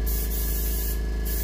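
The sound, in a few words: spray painting a muskie for taxidermy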